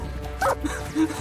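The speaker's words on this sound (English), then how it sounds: "That's a dog!" A dog barks in the stealth video game Metal Gear Solid 3: Snake Eater, a few short yips and barks in quick succession, close and moderately loud over low game ambience.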